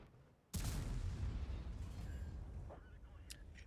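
A tank gun in World of Tanks fires blind, one loud sudden boom that rolls out into a long decaying rumble, followed by a few faint mechanical clicks.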